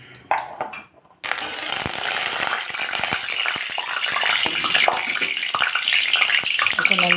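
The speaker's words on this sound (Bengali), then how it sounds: "এখন আমি এক এক করে মাছ ছেড়ে দিচ্ছি।" Fish pieces slid into hot mustard oil in a home kitchen: after a brief quiet clatter, a loud, continuous sizzle and crackle bursts up and keeps going steadily to the end.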